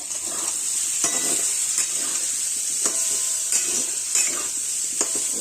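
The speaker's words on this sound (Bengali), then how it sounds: "দেখো বন্ধুরা আলু আর মটরশুঁটিটা ভাজা হচ্ছে" Boiled potatoes and green peas fry in a pan with a close, steady sizzle, while a spatula stirs and scrapes at irregular intervals throughout, with no talking.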